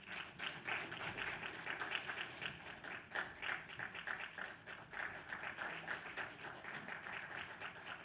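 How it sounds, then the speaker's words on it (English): A conference audience applauds with a dense, steady patter of many hands clapping throughout, fairly faint and heard from within the hall. "A great round of applause, please."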